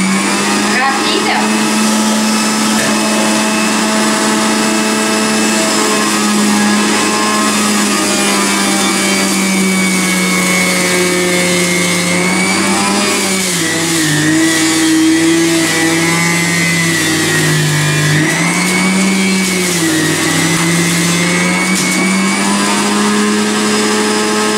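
Aicok centrifugal juicer running at high speed while juicing apples, a loud, steady motor whine with shifting pitch that dips and recovers as fruit is pushed in, continuous for the whole stretch.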